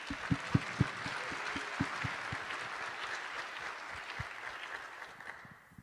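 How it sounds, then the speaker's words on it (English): Applause from a tech conference audience honours the event sponsors: steady, moderately distant clapping with scattered sharp individual claps that fade toward the end. "let's have a quick round of applause for everyone downstairs"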